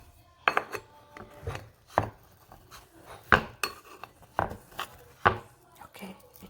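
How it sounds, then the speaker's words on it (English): A tiny spatula scrapes and prises steamed idli out of the mould in a string of short, close metallic clinks and taps against the tray, irregularly spaced, with no talking. "I'm going to scoop this idli out using this tiny spatula."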